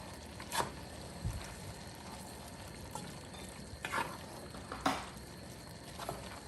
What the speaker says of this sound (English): And then I'm gonna add in the tomato, crushed tomato, or diced tomato